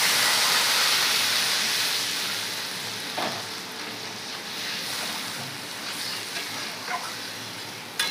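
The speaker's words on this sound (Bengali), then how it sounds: "এখন দিয়ে দিচ্ছি গরম জল।" Hot water hits sizzling fried spice masala in a pan, giving a loud rushing hiss and steam that slowly settles into a softer bubbling sizzle with a few light clinks.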